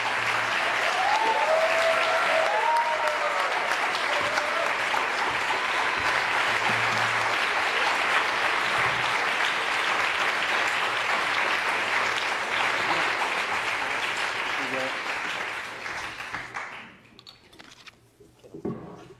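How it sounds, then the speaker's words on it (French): A conference audience applauds to welcome photographer Oliviero Toscani and the artist JR at the Université de la Terre 2011, with a dense, sustained clapping that holds steady for about fifteen seconds, then thins out and fades. "Je vous demande d'accueillir et d'applaudir"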